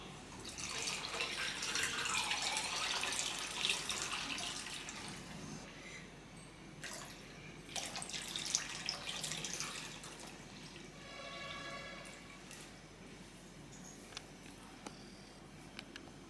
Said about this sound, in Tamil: இப்போது நான் இதில் தண்ணி ஊற்றுறேன்.